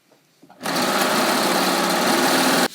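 A sewing machine runs a final seam on a knit fabric skirt. After a couple of faint clicks it starts up into one loud, steady, high-speed whir lasting about two seconds, then stops abruptly.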